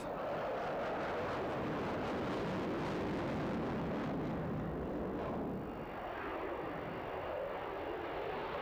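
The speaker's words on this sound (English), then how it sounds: "these 4 aircraft are going to perform for us a very American memorial formation known as the Missing Man" Four fighter jets of the 31st Fighter Wing from Aviano fly a Missing Man formation at the RIAT 2002 air show, a loud, continuous broadband jet roar that swells and dips slightly as they pass.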